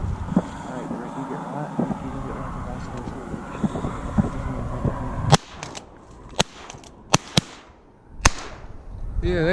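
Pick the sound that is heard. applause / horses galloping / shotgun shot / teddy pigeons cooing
shotgun shot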